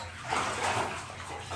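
Water splashing and running as Lucy the dog is rinsed in a bath, a short close burst of washing sounds with a faint whimper-like tone.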